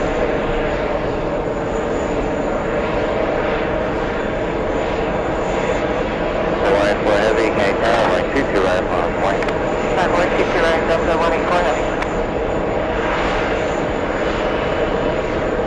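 A Lufthansa airliner moves at JFK airport, its engines giving a constant rumbling drone that swells briefly with a burst of brighter, rougher noise partway through before settling back.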